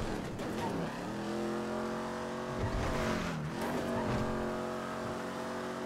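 A car in the video game GTA V spins out, its engine revving up and down in rising and falling sweeps while tires squeal and scrub across the road, loud and close under background game noise.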